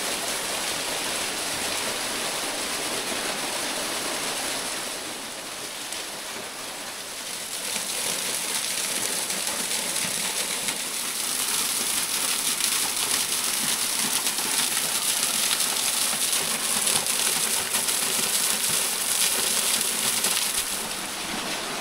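Waterfall in the Janela do Inferno gorge on the Azores, a steady, loud broadband rush of falling water close by, dipping briefly then swelling again, with water trickling and dripping from holes in the rock wall.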